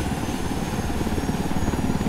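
A helicopter in the video game Ghost Recon Wildlands flies close by, its rotor beating in a steady, loud, dense drone with no break.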